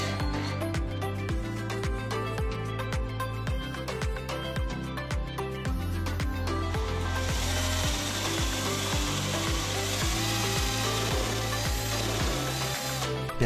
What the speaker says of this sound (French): Percez 2 trous à l'extrémité du montant.